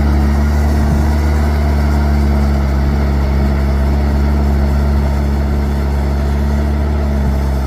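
A 6240 vehicle engine runs smoothly, a loud, steady, even drone held close up with no change in rhythm and no voices.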